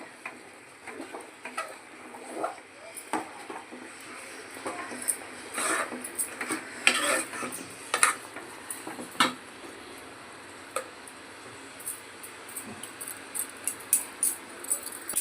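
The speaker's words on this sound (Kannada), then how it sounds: "ಸಣ್ಣ ಉರಿ ಮಾಡಿದ್ದೀನಿ ತಿರುಗಿಸ್ತಾ ಇದ್ದೀನಿ" Junka being stirred in a pan over a low flame, with light scattered scrapes and clinks of a spoon against the pan, soft and intermittent over a quiet background hum.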